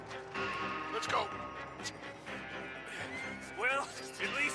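Horses in Red Dead Redemption 2 whinny in a few sharp, rising cries amid game ambience and scuffling, with voices talking underneath.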